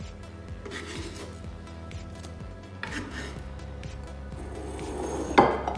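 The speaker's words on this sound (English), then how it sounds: "We're going to chop it up." An onion is chopped with a knife on a cutting board, giving a run of sharp, close taps at an uneven rhythm, with a louder clatter near the end.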